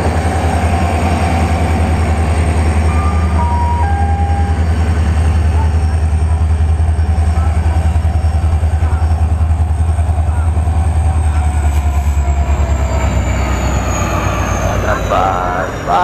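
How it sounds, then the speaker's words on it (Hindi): Lok Nayak Express passenger train from Chhapra to New Delhi rumbling along rails, a steady loud low roar with continuous wheel and carriage noise throughout, faint squeal near the end. "सामने देख सकते हैं लोकनायक एक्सप्रेस छपरा न्यू दिल्ली लगी हुई है, ट्रेन नंबर"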